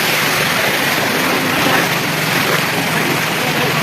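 Rushing water at Kakkidikkal waterfall pours in a loud, constant roar, a dense unbroken wash of noise with no pauses or distinct events.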